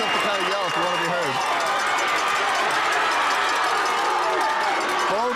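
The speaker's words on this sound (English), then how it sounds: "I'm going to go again with just the crowd noise so you don't have to hear us" Loud, continuous roar of fans at a Southern Maine Class C high school football final between Cape Elizabeth and Leavitt. The dense crowd noise runs throughout, with shouting voices rising above it.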